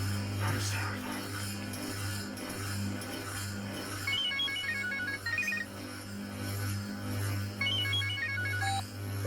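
Electronic phone ringtone chirping in short repeated bursts, a clear melodic trill recurring twice over a steady low hum and background noise, with no talking.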